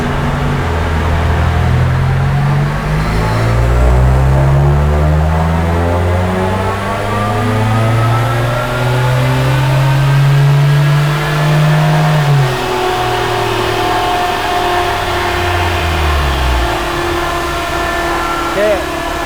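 A Toyota Raize 1.0L turbo engine revving during Unichip tuning, climbing and falling through long, loud sweeps that hold high before easing back to a steadier idle, heard up close.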